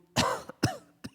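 A man with a bad cough clears his throat and coughs three times in quick succession, loud and close, the first two bursts harsh and drawn out, the last one shorter.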